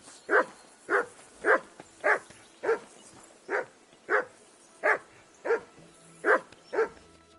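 A dog in Kingdom Come: Deliverance II barks in a steady series of about a dozen sharp, evenly spaced barks, close and loud, with no talking.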